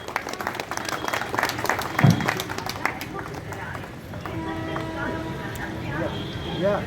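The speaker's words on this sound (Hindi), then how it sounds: "जोरदार तालियां" Audience applause at a biennial provincial and divisional convention of a railway mail service and mail motor employees' union, a dense patter of clapping with crowd noise and voices over it, fading into murmuring and chanting toward the end.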